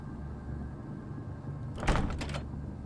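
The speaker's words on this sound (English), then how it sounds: "This is a door." A locked door tried in the Resident Evil game, a short rattling thunk of the handle and frame near the end, set against a quiet low ambient drone, with no speech.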